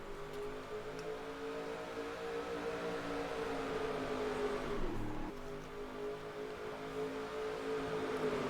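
Race cars in a stock-car racing game at Daytona International Speedway, a steady droning engine roar from the pack holding throughout with a brief dip and swell midway, no voices.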